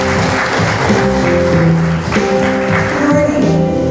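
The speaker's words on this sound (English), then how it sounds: "Big round of applause, please." An audience at a forum session applauds loudly and steadily to welcome the session chair, a dense sustained clapping with no break throughout.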